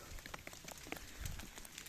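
Large hailstones fall on a mountain trail in the Vosges, near Klintzkopf above Sondernach, while hikers shelter under trees: a dense, steady patter of scattered sharp impacts, close and fairly loud.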